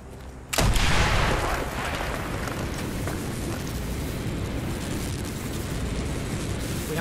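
A C4 charge blows a hole in a wall in Call of Duty: Black Ops, one sudden loud blast followed by a long roaring rumble of debris and battle noise.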